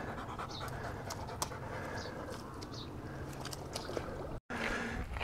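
A spaniel pants rapidly and steadily at close range on Milk Hill, Wiltshire, heavy rhythmic breaths over a soft outdoor background, with a brief dropout near the end.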